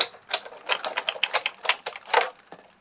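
A Big Shot die-cutting machine being cranked by hand, giving a quick run of close, rhythmic mechanical clicks and ratcheting whirs over a few seconds with no talking.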